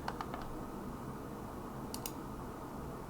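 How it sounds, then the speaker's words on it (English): A few quick computer keyboard keystrokes typing a file name, faint and close over a steady background hiss, with a short burst of clicks near the end. "you can just type in D2R .exe"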